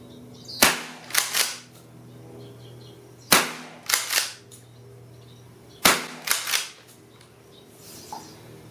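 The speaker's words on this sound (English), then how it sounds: "Make the SXP go bang a couple times." A Winchester SXP 20 gauge pump shotgun fires three loud, sharp shots a few seconds apart, each followed by the quick clack of the pump action being cycled, firing 7/8 ounce Remington Clay and Field loads.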